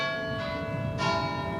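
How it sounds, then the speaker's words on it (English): Church bells ringing at St Mary the Virgin in Lee on a Sunday morning, sustained ringing tones overlapping one another, with a fresh strike swelling louder partway through. "the church bells are ringing at St Mary the Virgin in Lee"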